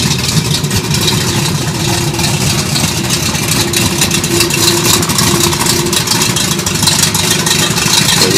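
A car engine idles steadily with its exhaust rumbling nearby, a continuous even drone with no talk throughout.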